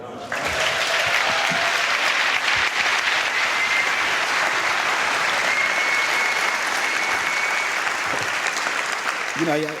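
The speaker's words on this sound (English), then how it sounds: "Just give an ecstatic applause." A large crowd applauds loudly and steadily for about ten seconds, a dense wash of clapping that stays even throughout.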